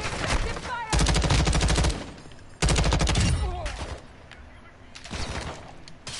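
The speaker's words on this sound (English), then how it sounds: "Taking effective fire!" Incoming gunfire in a PS4 video game comes in two long, loud bursts of rapid automatic shots, followed by scattered quieter shots and echoes.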